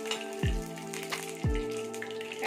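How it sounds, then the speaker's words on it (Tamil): Ghee sizzling in a kuzhi paniyaram pan over a low flame while sweet banana paniyaram cook, a steady close crackle with two brief louder spatters as more ghee goes in. "கொஞ்சம் கொஞ்சமா நெய் போட்டுக்கலாம்."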